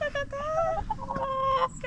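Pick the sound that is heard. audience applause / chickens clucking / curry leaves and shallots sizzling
chickens clucking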